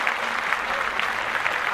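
Steady applause from a small group, dense and continuous clapping that stays evenly loud throughout.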